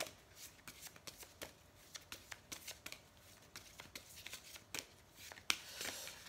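Oracle de la triade cards being shuffled by hand: a run of soft, irregular riffling flutters and taps, close and quiet, ending in a louder burst of card noise, with no talking.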